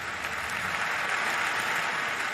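Sustained applause fills Westminster Abbey after a funeral eulogy, a dense, steady wash of clapping from a large crowd echoing through the vast stone interior, with no voices standing out.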